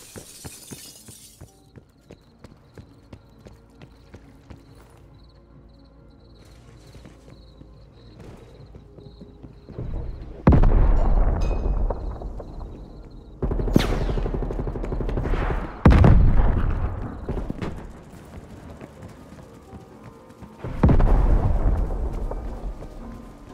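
Frag grenade explosions in Call of Duty: Black Ops Cold War on the Miami map: several loud, heavy booming blasts with crackling debris tails, coming after a quieter stretch of distant combat ambience.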